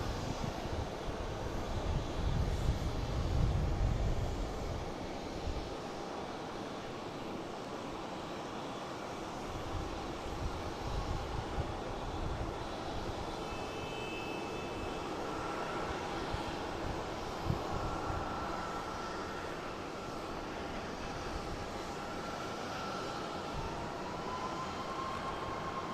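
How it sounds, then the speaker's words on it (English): A Southwest airliner arriving from Austin at Boston Logan International Airport, heard as a steady, distant jet engine roar that swells slightly early on and then holds as a continuous broadband rumble, with no talk. "next ticket coming in is a Southwest coming in from Austin"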